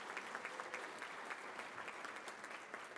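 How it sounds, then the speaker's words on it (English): An audience at a sponsored luncheon gives a round of applause to welcome students. The clapping is quiet and distant, a steady wash of many hands with no talk over it. "please join me in a round of applause as we welcome our students"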